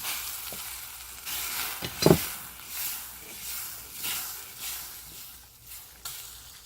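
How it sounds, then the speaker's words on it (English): Flour stirred into water just off the boil to make sopapilla dough, soft rhythmic swishing and scraping strokes in a pot, close and fairly quiet, with one brief louder scrape. "And just stir it until it's mixed up all nice."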